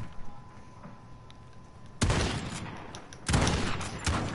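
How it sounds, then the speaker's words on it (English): Machine gun firing in Modern Warfare, two loud sustained bursts of rapid automatic fire after a quieter lead-in. "The solo machine gun."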